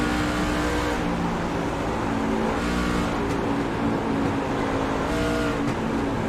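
Racing truck engine from an esports truck racing video game at Kansas, a loud, steady droning roar that holds throughout with slight surges and no talk.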